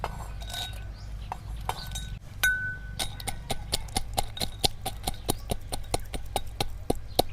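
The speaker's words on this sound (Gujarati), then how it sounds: "તો આપણે પહેલાં કાજુ બદામ ખાંડી નાખશું" Cashews and almonds are pounded coarsely, producing a quick, regular series of sharp, close knocks and clinks, about two per second after a brief quieter start, with no talking.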